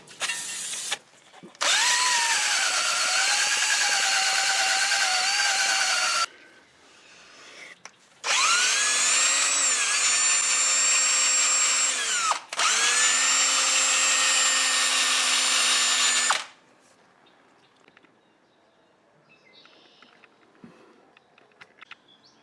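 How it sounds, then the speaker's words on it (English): Wire brush on a power drill scrubbing loose rust from Porsche 997.2 rear brake parts, three loud whirring bursts with pitch dips under load, separated by short quiet gaps, alone. "I use a wire brush to just remove loose rust"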